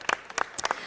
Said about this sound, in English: Give Seal a great big round of applause.